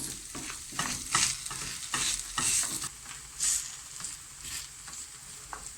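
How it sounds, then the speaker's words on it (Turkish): Grated potato rösti fries in a heated pan, pressed flat, with steady crackling sizzle and a few louder bursts of spattering, close and alone with no talking. "Sıkılaştırarak düzleştirdiğimiz patateslerimizin iyice kızarmasını bekliyoruz."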